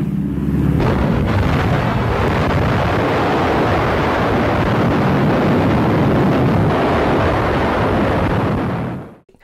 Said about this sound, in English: That's the nuclear explosion over Nagasaki in 1945.